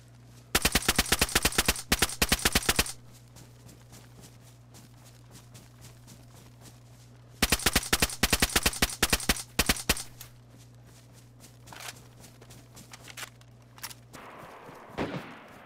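Two loud bursts of rapid automatic gunfire from a DayZ gunfight, each lasting a couple of seconds with a quieter gap between them, over a steady low hum, followed by scattered softer clicks and rustles.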